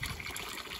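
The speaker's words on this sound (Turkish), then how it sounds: "Su dolduruşunu izliyoruz sevgilim." Cold stream water pours steadily into a bottle, a soft continuous trickle and splash heard close up but fairly quiet, with no voices over it.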